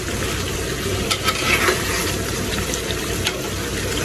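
Broth is poured into a pan of curry frying in oil. A steady, dense sizzle and bubbling goes on throughout, with faint stirring scrapes near the middle and no talk.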